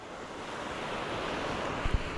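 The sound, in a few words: large sea waves at the shore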